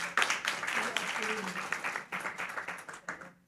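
An audience at a gathering of Bahujan students breaks into applause, a brief patter of many hands clapping that tapers off within a few seconds, with talking over it.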